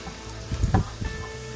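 Pork chops brown in a frying pan, a low crackling sizzle with a brief burst of louder spitting and stirring noise near the middle, close and without talk.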